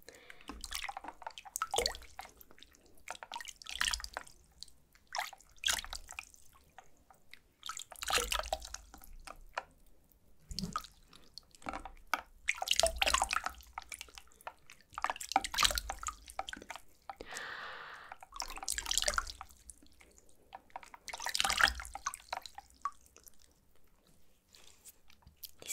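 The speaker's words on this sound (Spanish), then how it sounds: "a mí me encanta lavarme la carita con agua fría" Cold water splashed onto a face during a skincare routine, with repeated close, wet splashing and dripping sounds at an uneven rhythm, soft and intimate throughout.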